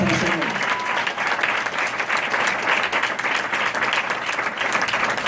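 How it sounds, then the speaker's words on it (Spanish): Church congregation applauding at a worship service, sustained dense clapping from a crowd throughout, loud and steady with a brief voice heard at the start. "Dele fuerte esas palmas al"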